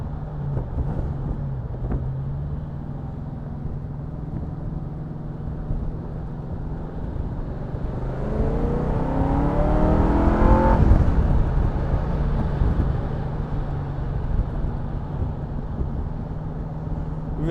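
An AK Sportcars Cobra with a small-block V8 trundles along in fourth gear at about 1500 RPM and 40 mph, its low engine drone swelling to a louder rising pull midway before settling back.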